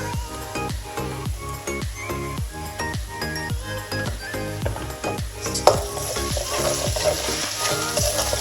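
Ginger-garlic paste sautéing in hot oil for a Bengali chicken roast, a loud continuous sizzle with rhythmic scraping strokes of a spatula against the pan throughout.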